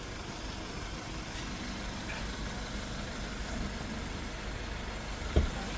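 A 2018 Range Rover Velar R-Dynamic idles with a quiet, even engine hum, steady and fairly faint, with a single brief knock near the end.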